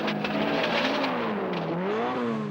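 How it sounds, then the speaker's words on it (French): Timo Mäkinen's Mini rally car slides through a very fast left-hand corner, its engine loud and close, revving hard with rising and falling pitch and a long strained slide. "Un virage à gauche très rapide. Une longue glisse."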